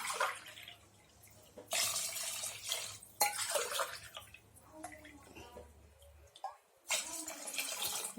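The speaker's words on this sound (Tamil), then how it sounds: "ரெண்டு கிளாஸ் தண்ணி விட்டுருக்கேன்" Two glasses of water are poured into a pot of chicken in several splashing bursts, with quiet pauses between pours.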